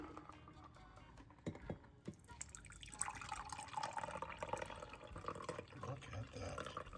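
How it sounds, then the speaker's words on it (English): Pineapple cocktail of pineapple juice poured from a shaker into a glass, a soft liquid splash and trickle after a couple of brief clinks, steady and close. "You're gonna pour that into your glass."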